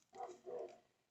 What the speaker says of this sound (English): And I apologize about my dog